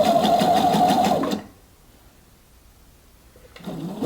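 A sewing machine stitches a dress at a steady, close, loud whir, stops for a quiet pause of about two seconds, then starts running again.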